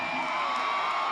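Stadium crowd at M.M. Roberts in the video game NCAA Football 2025, a brief steady roar of cheering and shouting filling the space, loud and continuous with no break.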